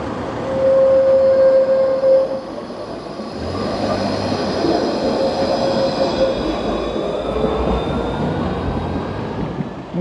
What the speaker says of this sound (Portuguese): Muito maneiro esses trens que passam, né?